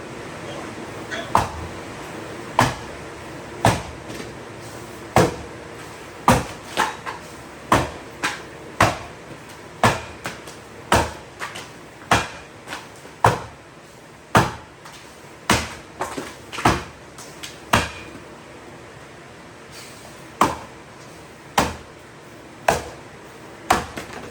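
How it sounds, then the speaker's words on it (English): Axe chopping a 14-inch log in a standing chop: a steady series of sharp, loud wooden thwacks, roughly one per second, close by with brief pauses and no talking. "this is a 14-inch log, and I'm not using the same axe that I used in that underhand"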